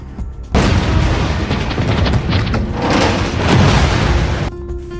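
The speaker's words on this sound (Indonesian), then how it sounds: "Akhirnya, yaksa pun dengan terpaksa meledakkan markas mereka demi menghilangkan jejak." A hideout is blown up in a film scene, a loud sustained blast of booming explosion that rumbles and crackles for about four seconds before cutting off abruptly, with no talk over it.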